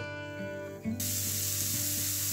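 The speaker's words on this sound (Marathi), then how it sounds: "इथे मी 2 कांदे छान असे कट करून घेतलेले आहेत। यांना आपण भाजून घेऊ।" Cut onions hit a hot pan and roast with a steady close sizzle and hiss that rises abruptly and then holds level.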